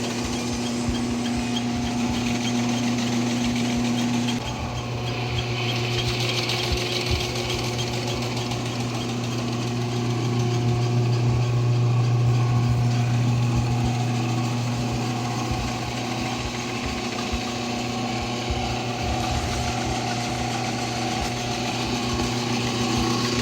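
A rebuilt Super 49B seed cleaner running steadily, a continuous mechanical drone with a fast shaking rattle and hum from its eccentric shaft and fan, close and even throughout.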